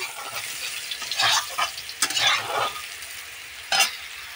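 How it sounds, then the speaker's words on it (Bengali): Potatoes fry in a kadai of hot oil after fish were fried, a loud, close sizzle with repeated bursts of crackling as the pieces are stirred and turned, no voices. "আলুগুলো ভেজে নিচ্ছি।"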